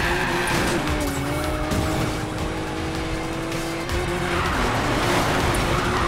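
Tires squealing and skidding through a drift in Need for Speed Payback, a sustained screech over a loud revving car engine, with the pitch of the squeal sliding up and down as the car slides.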